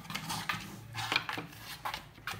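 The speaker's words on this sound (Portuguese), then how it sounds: "Esse barulho que vocês estão ouvindo, o meu gato agora se interessou pela caixa" A cat plays with a cardboard box close by, giving scattered scratching, tapping and rustling knocks in uneven bursts, fairly quiet, with no one talking.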